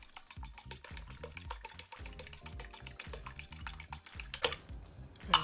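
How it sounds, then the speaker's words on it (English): Eggs being beaten in a bowl for cornbread batter, a fast steady whisking rhythm of light clicking strokes against the bowl, close and continuous throughout, ending in a brief louder clatter. "We're gonna beat our eggs."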